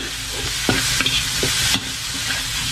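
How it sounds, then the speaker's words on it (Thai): Chopped garlic and shallots are stir-fried in a pan, a loud continuous sizzle broken by several rhythmic spatula scrapes and knocks against the pan. "ผัดกระเทียมกับหอมแดงให้หอมก่อนนะครับ"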